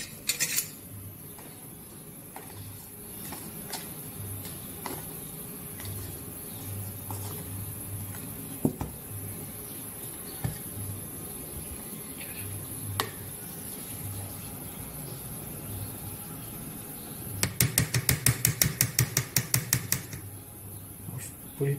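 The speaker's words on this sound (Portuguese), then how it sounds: "Sempre peneirando a farinha de trigo." Wheat flour being sifted into chocolate cake batter through a sieve: a soft, quiet rasp with occasional light clicks, then a quick run of rapid metallic taps on the sieve near the end.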